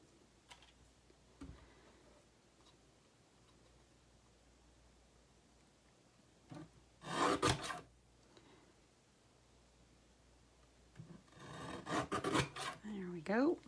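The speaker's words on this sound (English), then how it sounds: "Now I will bring in my trimmer here and just cut this down." A paper trimmer slices through card stock for a double gate-fold card, two short bursts of quick scraping cuts, fairly close, with quiet pauses between them.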